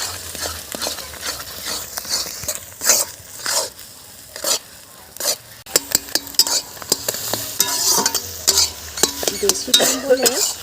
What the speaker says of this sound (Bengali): কড়ার মধ্যে তেল এখানে আমি দিয়ে দিচ্ছি কেটে রাখা ডিমগুলো